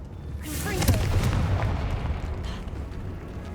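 Confringo fire spell explosion in the video game Hogwarts Legacy, a sudden booming burst with crackling fiery tail that fades over a few seconds, loud and close.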